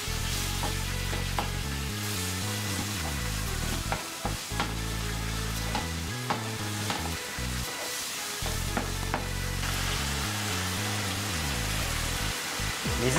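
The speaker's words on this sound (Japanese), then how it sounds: "ニラはさっと炒め" Garlic chives are stir-fried quickly in a hot pan, a loud continuous sizzle with frequent stirring clacks and scrapes, no talking.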